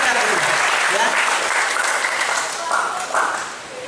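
Applause from an audience at an election-supervision briefing, heard as broadband clapping with voices talking over it, fading slightly toward the end.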